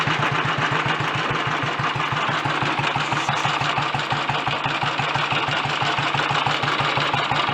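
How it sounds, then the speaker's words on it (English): Royal Enfield Bullet 350 G2 engine idling with the ignition fully retarded, a loud, steady, evenly spaced thumping beat that runs on without a break, with no voices. "That engine, for any critics, doesn't actually sound too bad mechanically"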